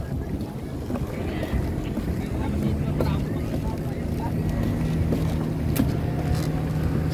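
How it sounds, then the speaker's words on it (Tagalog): Speedboat carrying passengers out for a parasailing ride, a steady engine drone with wind and water rush at a continuous, even level throughout, voices faintly present in the background. "Nandito na po kami sa speedboat."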